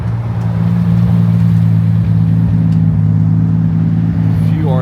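Nissan GT-R R34 passing at a night car meet, a steady low engine drone rolling by at moderate distance amid crowd murmur.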